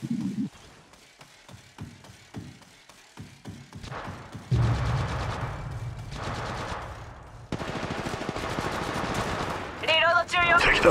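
Gunfire in the mobile battle royale game Apex Legends Mobile: scattered single shots give way to long sustained automatic bursts, loud and close, with brief pauses between strings of fire.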